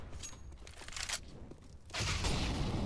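AK rifle gunfire in a video game, a few faint muffled bursts of shots followed by a louder sustained rattle of fire near the end.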